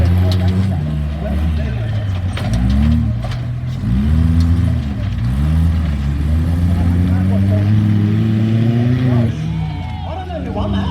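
Off-road 4x4 cars race on an obstacle course at an outdoor expo, engines loudly revving and surging with rising and falling pitch, while a voice talks over the engine noise.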